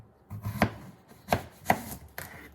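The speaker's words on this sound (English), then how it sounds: "So I'm going to cut it this way." A knife cutting through zucchini on a board, four crisp chopping thuds spaced unevenly and heard close and clear with no talking.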